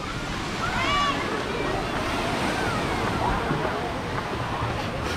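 Surf rolls and washes onto the shore at JPark Hotel & Resort under steady wind, with faint voices of a crowd and a brief whistle-like call near the start.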